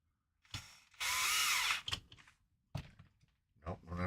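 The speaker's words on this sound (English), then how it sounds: "Put one screw into this." A power driver runs in short bursts while fitting screws into an RC four-wheel-drive crawler body, one longer whir among brief clicks, with someone talking close by between bursts.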